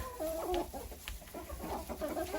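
Hens and a rooster clucking in a freezing coop during an arctic cold snap, several birds trading short close clucks and chirps in an uneven, busy rhythm with no talk.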